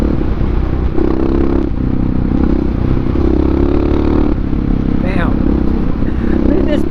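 Motorcycle lifting its front wheel, the engine droning loud and close with rising and falling revs and rattling mechanical clatter throughout, and wind noise over the ride.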